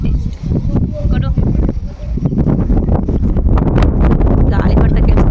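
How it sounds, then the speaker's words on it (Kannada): Strong wind buffets the microphone outdoors at a hilltop temple, a steady loud rumbling roar that grows heavier through the second half, with people talking underneath. "ಗಾಳಿ ಬರ್ತಾ ಕೇಳಿಸುತ್ತೆ ಅನ್ಸುತ್ತೆ"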